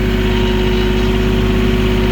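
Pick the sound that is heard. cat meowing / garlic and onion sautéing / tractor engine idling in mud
tractor engine idling in mud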